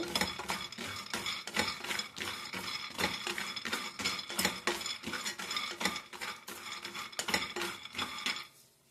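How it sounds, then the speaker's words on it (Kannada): Peanuts roast in a pan while a utensil stirs them, giving quick rhythmic scraping and rattling strokes throughout, close and fairly soft, with no voices. "ಅದೇ ಕಪ್ಪಲ್ಲಿ ಬೀಜ ತಗೊಂಡಿದ್ದೀನಿ ಇದನ್ನು ಅಷ್ಟೇ ಚೆನ್ನಾಗಿ ಗೋಲ್ಡನ್ ಕಲರ್ ಆಗೋರ್ಗೆ ಹುರ್ಕೊಬೇಕು"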